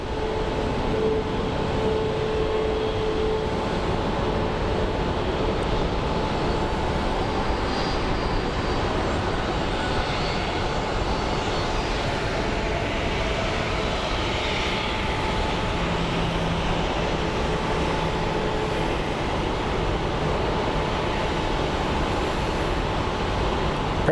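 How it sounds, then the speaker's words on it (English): An MD-11 jet approaching Sky Harbor airport, a steady broadband engine rumble and roar holding at a constant level throughout, moderately distant with no talk. "our focus is going to be the MD-11 that's approaching"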